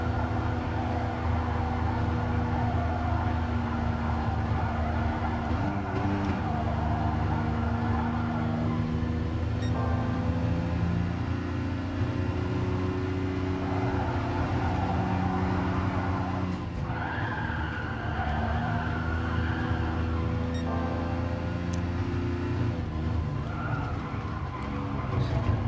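Race car engine in Gran Turismo Sport drones continuously and loudly, its pitch climbing and falling through gear changes, with tire squeal mixed in.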